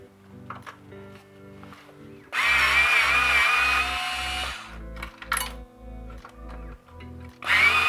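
A power tool spins out brake caliper screws during a brake pad change. It makes a loud, steady high whir for about two seconds, then comes back in short bursts between quieter mechanical clicks and rattles, with no talking.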